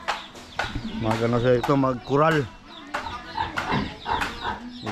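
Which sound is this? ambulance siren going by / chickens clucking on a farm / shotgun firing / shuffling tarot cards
chickens clucking on a farm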